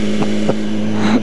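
A motorcycle engine runs with the choke on, holding a loud, steady droning idle with brief surges, heard close up with wind noise across the microphone.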